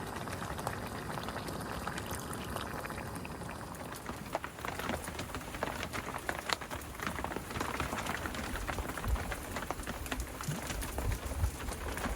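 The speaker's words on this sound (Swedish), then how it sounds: "Det regnar rejält just nu." Heavy rain pours down steadily in a Swedish forest along a hiking trail, a dense continuous hiss of drops pattering on surfaces, close and unbroken throughout with no voices.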